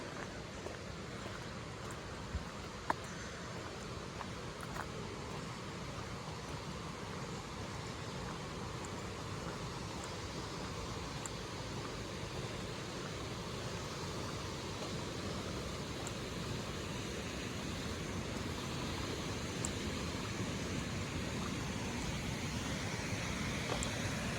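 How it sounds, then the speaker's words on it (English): A waterfall in a South Carolina state park makes a steady, broad rushing roar that stays constant throughout, with a few faint footsteps or knocks near the trail. "And you can hear the waterfall right now."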